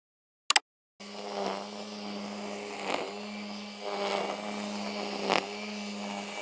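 A brush cutter strimmer runs at a steady engine drone with a harmonic whine, cutting heavy grass, rising in surges as it bites into thicker growth, close and continuous after a brief click at the start.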